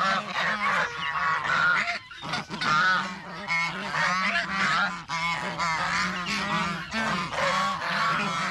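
A flock of geese eating corn honks loudly and continuously, many overlapping nasal calls close by, with a brief pause partway through.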